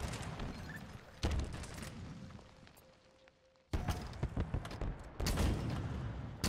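Rocket launches and explosions in a video game, several loud bursts with crackling debris and booms, a quieter stretch between them, then heavy blasts again.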